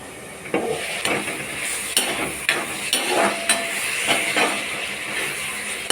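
Vegetables fry in oil in a pan without water, a continuous sizzle broken by repeated scrapes and clinks as a spoon stirs them, close and fairly loud.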